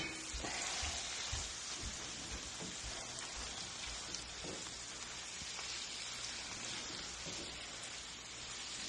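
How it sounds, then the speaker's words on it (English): Peas coming to a boil in a pot on a home stove, a steady bubbling hiss with scattered pops, close and continuous throughout. "The peas are almost boiling."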